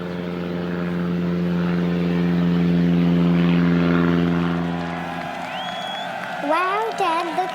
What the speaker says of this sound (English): his father took him to an air show where airplanes flew and raced